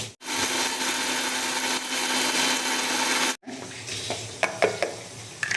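An electric mixer grinder whirs loudly as it grinds whole Chettinad garam masala spices, running steadily for over three seconds, stopping briefly, then restarting with rattling and clinking of the jar.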